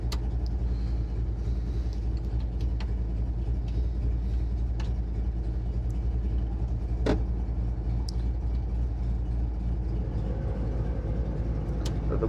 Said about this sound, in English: The blower motor does turn on.